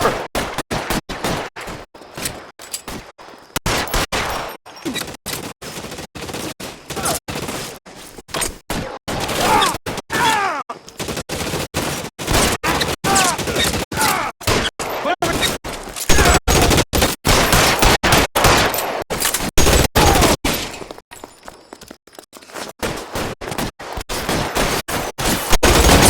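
Shootout in the crime video game L.A. Noire, with dense, loud gunfire: rapid volleys of shots and bursts packed close together, broken by brief pauses, continuing for about half a minute.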